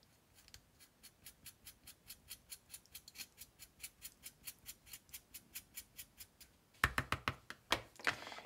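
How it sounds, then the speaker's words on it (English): A blade rhythmically scrapes graphite at the tip of a pencil into a point, producing quick, evenly spaced faint strokes, followed by a few louder, sharper scrapes at the end. "use the blade to sort of shave the graphite on the end into a point"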